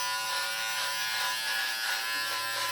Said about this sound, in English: So you just use it like a normal trimmer, and then just slowly watch what happens.